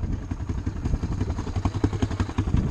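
Honda amphibious four-wheel-drive quad ATV engine running close by, a steady loud mid-pitched rumble with rapid uneven throttle pulses and some clatter throughout.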